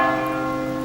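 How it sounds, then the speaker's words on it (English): Church bells ringing in Mellieha, Malta, a sustained resonant peal with steady overlapping tones, fairly distant and heard alone. "lovely bells, aren't they?"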